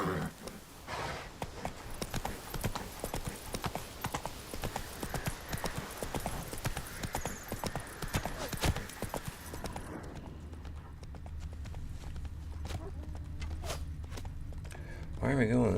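Hooves of the horse Roach clip-clop steadily in The Witcher 3 game, a fast galloping rhythm that continues throughout, with a voice speaking over it and the scene growing quieter after the first ten seconds.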